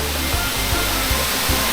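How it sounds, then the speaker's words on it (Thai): Kra Ang waterfall pours over a cliff edge in Nakhon Nayok, making a loud, dense, continuous rushing roar close by, with faint periodic low thumps beneath it. "เสียงน้ำตกฟังเพราะมากครับนี่ครับ"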